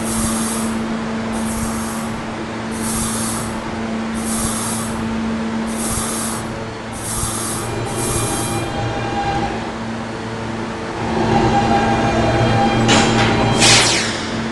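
A Roblox R160 subway train on the D and E lines runs steadily with a rumbling roar and rhythmic high hissing bursts, rising near the end as wheels squeal.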